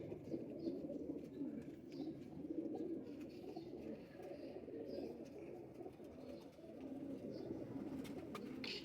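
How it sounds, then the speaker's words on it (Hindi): Patti wale pigeons coo steadily in a low, continuous murmur from a flock close by, with a few faint chirps over the top and no talking. "ये प्योर पट्टी वाले कबूतर हैं।"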